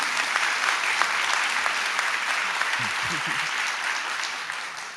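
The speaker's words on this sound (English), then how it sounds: "let's clap it up for Imani, though, real quick." An audience claps steadily in a sustained round of applause, dense and even, with a brief voice breaking through near the middle.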